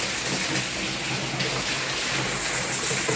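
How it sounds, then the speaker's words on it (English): Heavy rain pours down steadily outdoors at a property in Ghana, a dense, continuous hiss with no pauses, filling the whole scene with no voices over it. "And the rain is even coming down more, guys."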